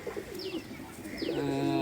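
A pair of old pet pigeons coo at home, giving two rising-and-falling throaty coos close by, the second fuller and longer, with no voices.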